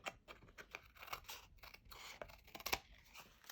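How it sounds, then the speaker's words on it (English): Scissors trimming excess paper off a handmade card, a series of crisp snipping cuts at an uneven rhythm, close and fairly quiet with no talking. "So now we'll grab some scissors."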